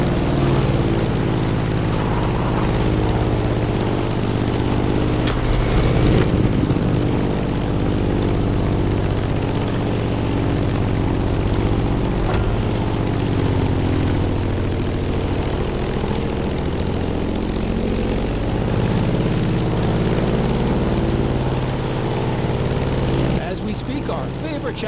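A Grumman F8F Bearcat propeller plane in The Crew Motorfest drones on steadily in flight, its engine a continuous low hum with a faint whoosh near the end.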